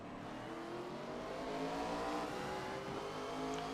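ARCA race cars roar away on a restart at Bristol Motor Speedway, several engines rising together in pitch as they climb through the gears, loud and close in a continuous dense drone.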